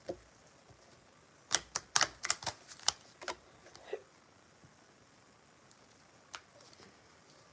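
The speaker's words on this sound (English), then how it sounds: "don't like shuffling like this" Crisp, rapid clicking and slapping of cards in a quick burst, then a few scattered taps in a quiet room.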